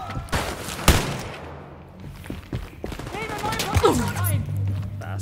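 Shotgun blasts ring out in Wolfenstein: Youngblood as sharp, loud bangs scattered among rapid gunfire, with a voice shouting over the combat.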